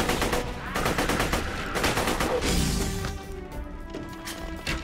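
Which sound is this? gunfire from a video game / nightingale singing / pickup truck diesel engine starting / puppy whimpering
gunfire from a video game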